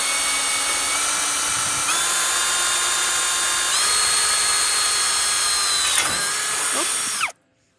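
A drill bit spins in a steady, loud, high-pitched whine that steps up in speed a few times, then winds down and cuts off abruptly.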